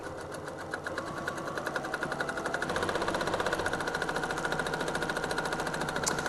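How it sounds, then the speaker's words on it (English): A sewing machine stitches along a seam of plush Shannon Cuddle fabric on a dog bed, giving a fast, even mechanical chatter with a low motor hum, steady and moderately quiet throughout. "just kind of sewing right on that seam allowance I used to join the wall to the bottom layer of the bed"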